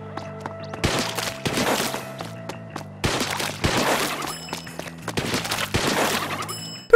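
Splatoon game audio played with stereo settings, a steady run of splats, thuds and cracks with bright electronic tones and short musical stabs throughout, moderately loud with no talking.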